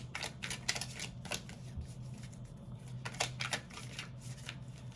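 A deck of cards being shuffled by hand makes a soft, continuous riffling and flicking close by, with quick bursts of crisp, papery clatter and no talking.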